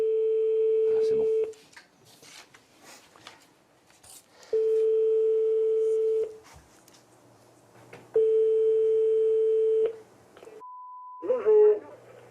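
Outgoing phone call ringback: three long steady tones repeat at regular intervals, quiet gaps between, followed by a brief higher tone and a voice answering at the end.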